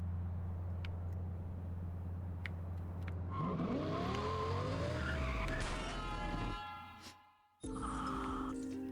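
Lamborghini sports car in the Need For Speed Undercover racing game, loud tyre skid and squeal with sweeping engine tones after a steady hum, cutting out briefly before resuming.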